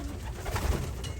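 Soft cooing of racing pigeons, a short low throaty coo heard close and fairly quiet, alone without talk.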